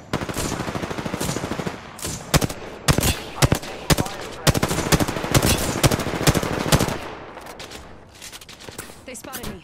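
Apex Legends gunfire in rapid automatic bursts, loud and close, with sharp repeated shots clustering through the middle and tapering off, over game noise and some speech.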